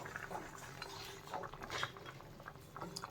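Prawn curry with pointed gourd and potato simmering in a pot, a soft, steady bubbling and pattering, faint and close, with a few light clinks of utensils.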